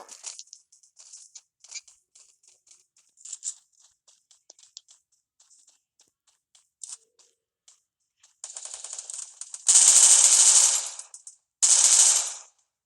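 Automatic gunfire from the Free Fire video game: faint scattered clicks and taps lead into loud, sustained bursts of rapid shots near the end, with a short gap between the two final volleys.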